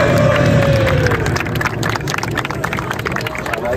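A crowd applauding at a regional rap battle, with dense, loud clapping and cheering mixed with crowd babble, steady throughout and close.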